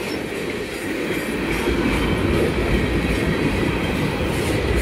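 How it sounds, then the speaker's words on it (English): Long freight train CA11 rolling northbound past milepost 9 on the Pennsgrove Secondary, a steady loud wash of wheel rumble and clatter filling every moment, close and continuous with no gaps. "Big train, man."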